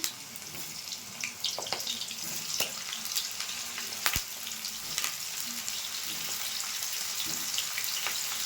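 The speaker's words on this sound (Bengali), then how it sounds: "ফুলকপিটা প্রথমে ভেজে নিচ্ছি" Cauliflower pieces fry in hot mustard oil in a kadai, giving a soft, steady crackling sizzle throughout with a few faint clicks of utensil contact.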